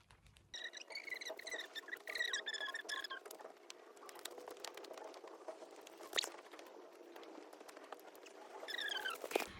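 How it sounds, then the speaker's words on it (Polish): Light rain falls outdoors as a soft, steady patter, with birds chirping faintly now and then. "Zaczął padać deszcz. Bardziej kropi"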